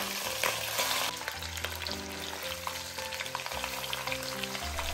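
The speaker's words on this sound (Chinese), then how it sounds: "我们来把处理好的海鱼轻微的煎一下" Prepared sea fish is pan-fried lightly in a pan, giving a continuous loud sizzle and crackle of oil, with gentle music playing underneath throughout.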